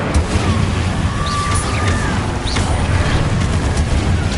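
Incendio fire spell cast in Hogwarts Legacy bursts with a booming, crackling whoosh amid ongoing combat noise, loud and dense throughout with brief whistling sweeps.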